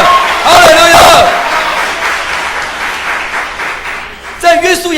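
Church congregation bursts into loud applause and cheering, with a voice calling out over the clapping at the start and again near the end.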